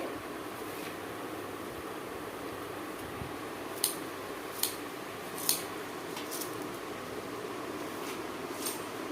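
Bermuda grass is snipped with scissors, a few sharp, faint cuts spaced irregularly over a quiet, steady background hum.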